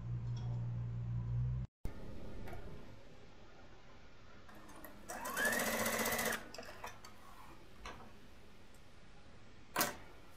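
A sewing machine stitches the underarm and underbust darts of an open-back top in a steady run of rapid needle clatter, with a brief pause and a short burst of faster, louder stitching near the middle.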